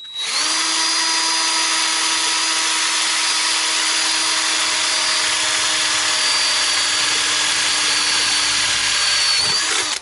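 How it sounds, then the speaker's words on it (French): A power drill runs steadily for about ten seconds, boring a hole through the middle of a car bonnet held with a locking clamp during front bodywork, with a constant high whine close up and no talk. "je vais pouvoir bien percer au milieu"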